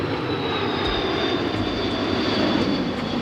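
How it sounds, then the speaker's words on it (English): Airplane passing overhead with a steady, loud broadband engine roar that fills the whole stretch without fading, a faint high whine riding on top, and no voices. "My bad, plane was going by."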